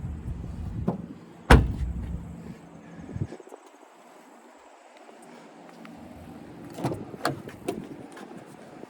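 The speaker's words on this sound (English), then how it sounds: "I'm gonna show you how the seat folds down." Rear seat of a 2025 Toyota Camry LE folding down, with a sharp latch click followed by a muffled thump and then softer shuffling and knocks inside the cabin.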